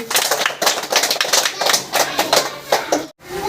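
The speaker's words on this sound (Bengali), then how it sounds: "ওর জন্য হাততালি" Children in a primary school classroom clap together for a point scored in a bangle-and-pebble tossing game, a dense, loud run of overlapping claps that cuts off abruptly near the end.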